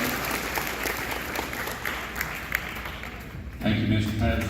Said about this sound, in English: So I want to give them 2 a round of applause right there for helping the team out.